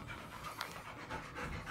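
Dogs pant quietly in a shooting stand, with quick, rhythmic breaths repeating close by, soft and unaccompanied by talk.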